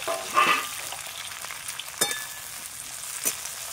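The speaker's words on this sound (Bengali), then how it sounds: "দিয়ে পেঁয়াজটা ভাজা ভাজা করে নেব।" Onions frying in oil for a duck curry give a soft steady sizzle, with a few sharp clinks of a spoon stirring the pan.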